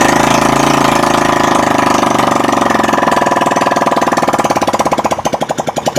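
A motorcycle engine running steadily after its ignition coil was refitted, a loud, continuous rapid mechanical chatter that holds evenly, then loosens into a slower, more distinct pulsing near the end.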